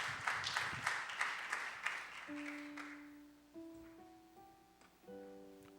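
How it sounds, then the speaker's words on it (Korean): A church youth worship congregation breaks into brisk applause that fades after a few seconds, leaving background music with sustained keyboard tones. "박수 박수 박수."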